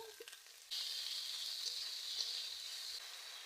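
Tomatoes and salt hit a pan of frying fish curry made with pond-netted fish, setting off a steady, bright sizzle that swells suddenly and holds loud and close, with no talking.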